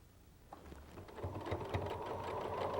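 A sewing machine stitches a hexagon quilt seam straight through a matched intersection, running as a steady mechanical whir that builds gradually in level with a rapid needle rhythm, close up with no talking.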